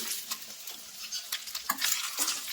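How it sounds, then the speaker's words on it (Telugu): Coconut frying in a spoonful of ghee while being stirred, a crackling sizzle with spatula scrapes against the pan, close and moderately loud, no talk. "1 స్పూన్ నెయ్యి వేసుకొని ముందుగా కొబ్బరిని వేసి ఫ్రై చేసుకుందామండి."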